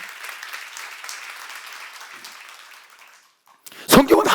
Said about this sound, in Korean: 박수를 하나 드리세요